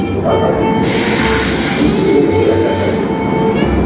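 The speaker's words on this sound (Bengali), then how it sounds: "আমাদের ট্রেন এখন হেমন্ত মুখোপাধ্যায় স্টেশনে ঢুকে পড়লো, এটাই লাস্ট স্টপ।" A Kolkata Orange Line metro train pulling into a station, a loud, steady rumbling roar with high whining tones and rhythmic wheel thumps, heard close from inside.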